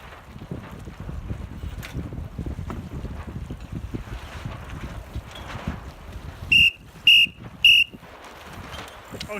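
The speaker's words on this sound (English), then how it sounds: "I'm going to be blowing whistles." Three short, sharp whistle blasts sound at even intervals during a frostbite sailing race start, cutting through steady wind noise and water on an open boat.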